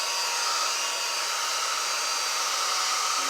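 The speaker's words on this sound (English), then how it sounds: "I don't know how old this blow dryer is." An old handheld blow dryer runs steadily at close range to dry wet paint, a constant loud airy whoosh with a motor whine that holds unchanged throughout.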